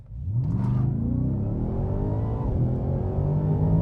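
A Ford F-150 Raptor R truck pulls away from a dealership, its engine giving a loud, steady low rumble with a rising rev near the start, continuous and close throughout.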